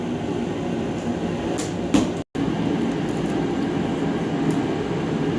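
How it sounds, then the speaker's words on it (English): A Mr. Heater 60K BTU forced-air heater runs with a continuous broadband roar and fan rush, loud and steady, broken by one very brief dropout and a few faint knocks. "if you can't, well, then you know what this heater actually sounds like in real time"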